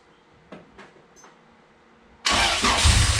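A Honda H22A engine, freshly rebuilt with new pistons and its balance shafts removed, turns over after a few faint clicks and catches abruptly, firing into a loud, rough idle close by.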